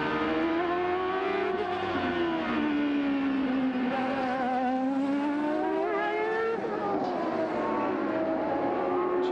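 Onboard with a CART race car at Mid-Ohio in 1997, the engine screams loud and close, its pitch rising and falling through gear changes and corners without a break.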